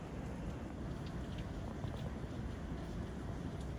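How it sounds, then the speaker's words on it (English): Steady, loud wash of ocean waves mixed with falling rain on a moody, stormy coast in Siargao, Philippines, with wind buffeting the microphone throughout and no voices. "Always quite hypnotizing to watch waves and rain together."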